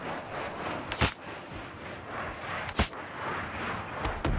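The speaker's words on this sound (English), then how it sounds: "Where is that shooting coming from?" Gunfire in Star Citizen rings out as a few sharp, isolated shots spaced unevenly over a few seconds, loud and crisp against a steady background hiss.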